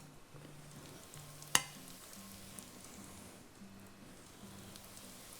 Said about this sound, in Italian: mentre loro friggono